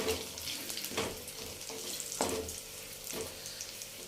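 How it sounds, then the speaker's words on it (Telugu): Mustard seed tempering frying in oil for a small gooseberry pickle, a dense steady sizzle close by, broken by a few sharp stirring scrapes at regular intervals. "ఇప్పుడు ఇది మొత్తం కూడా చక్కగా తాలింపు వేయించుకోవాలి"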